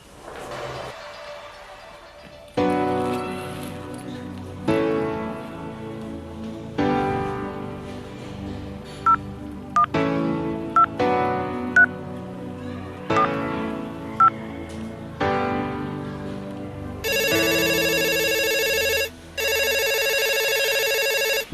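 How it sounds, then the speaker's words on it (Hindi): Telephone keypad tones beep in a quick series of dialed digits, followed by a steady electronic ringback tone repeating twice, clear and close, with no talking. "मैं फोन करके पूछती हूँ कि बेटा घर पहुँचा या नहीं"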